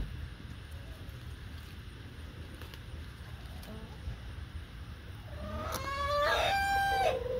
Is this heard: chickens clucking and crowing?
yes